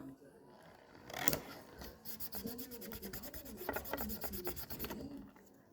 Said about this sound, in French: je vais mettre un morceau de scotch